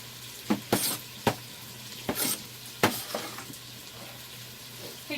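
Food sizzling and being stirred in a pot during home dinner prep, with scattered sharp clinks and scrapes of a utensil over a steady low frying hiss, fairly quiet and close.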